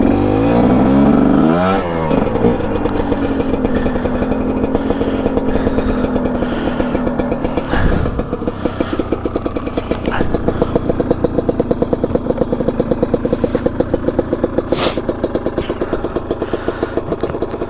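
A 2021.5 GPX TSE250R dirt bike engine runs at a steady, loud, close idle with a brief rev near the start, keeping an even mechanical putter throughout.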